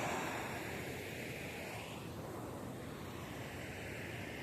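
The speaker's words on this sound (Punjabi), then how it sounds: "ਕਾਫੀ ਦੂਰ ਦੂਰ ਤੱਕ ਪਾਣੀ ਦੀ ਸਪੀਡ ਵੀ ਕਾਫੀ ਹੈ" Fast water released from a dam rushes in a continuous broadband roar, heard from a distance with some wind buffeting the microphone and no talk.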